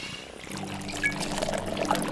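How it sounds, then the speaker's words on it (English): Cartoon liquid pour as a whole load of bubble mix is tipped into a car wash, a soft trickling stream running for a couple of seconds at low volume. "Let's put in all the bubble mix."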